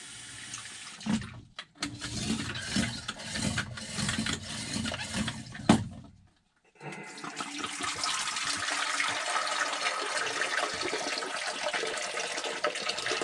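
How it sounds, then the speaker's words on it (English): Water pours into a film developing canister, sloshing and gurgling, then stops briefly before the canister is dumped out in a long, steady pouring rush, close and without talk. "Simply fill a canister up with water and dump it out."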